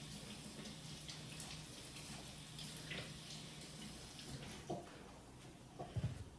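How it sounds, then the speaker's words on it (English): Tomatoes are rinsed under a running kitchen tap. The water flows faintly and steadily, with a few soft knocks near the end and no talking. "These tomatoes need to be washed"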